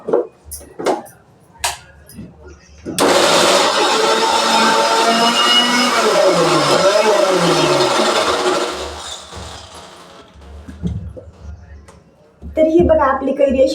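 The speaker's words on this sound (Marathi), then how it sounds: "तर त्यासाठी बघा मी आता मिक्सरमध्ये करणार आहे" A mixer grinder whirs loudly for several seconds as it grinds raw green mango, a steady close motor roar set between stretches of someone talking before and after.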